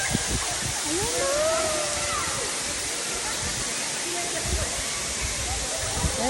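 Hulugan Falls waterfall roars as a steady, loud broadband rush filling the whole clip, with people talking and calling out over the top of the constant water noise.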